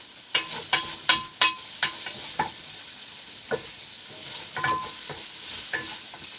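Onions frying in a pan after shrimp was cooked in it, with sharp clicks and scrapes of a utensil stirring through a steady crackling sizzle, several quick clustered strikes early, then sparser ones, close and moderately loud.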